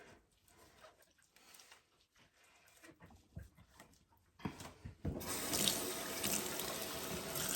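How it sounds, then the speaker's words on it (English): Jars being washed in hot soapy water at a kitchen sink: scattered clinks and handling sounds give way to a loud, steady rush of running tap water. "So just give them a good clean and hot soapy water."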